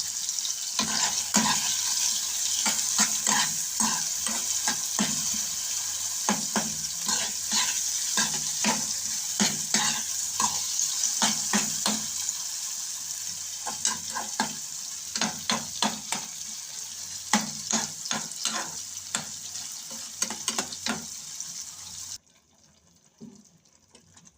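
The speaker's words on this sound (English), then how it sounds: "I'm gonna fry up my mackerel" Jack mackerel fries in a pan, cooked Jamaican style, giving a steady bright sizzle along with repeated scraping stirs for about twenty seconds. The sizzle cuts off near the end and only faint clinks remain.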